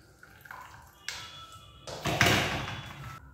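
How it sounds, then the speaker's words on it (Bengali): Rice batter being poured into a bowl, a short, soft wet pour with a few light knocks and clinks, building to a fuller splash near the end. "এই ব্যাটারটিকে আমি এটির মধ্যে ঢেলে দিচ্ছি"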